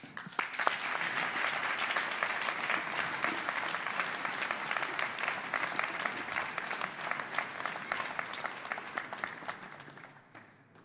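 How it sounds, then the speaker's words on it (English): A round of applause from a seated audience at a national youth science contest welcomes a performer onto the stage, with many hands clapping steadily for about ten seconds before the sound tapers off. "Please welcome Pit with a big round of applause"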